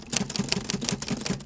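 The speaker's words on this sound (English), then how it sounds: "I've got a typewriter effect" A typewriter sound effect plays as a quick, irregular clatter of crisp key strikes, fairly quiet and heard on its own.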